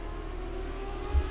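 A race car in an AFRO NXT race accelerates through the China Lake chicane at Mid-Ohio, giving a brief, steady engine drone that swells slightly at the end.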